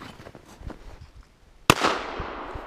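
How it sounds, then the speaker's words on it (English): A single sharp, loud report from a small .410 Rossi shotgun fired outdoors, with a brief rumbling echo trailing off afterward, following a stretch of quiet background noise. "This time I'm gonna cock the gun before I shoot."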